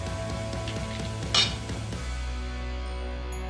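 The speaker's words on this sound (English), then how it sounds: "After adding the rice, we have to mix well" Spoon scraping and clinking against a pot while jeera rice is mixed in for tomato chicken biryani, a few soft metallic taps then one sharper clink, ending in a steady low hum.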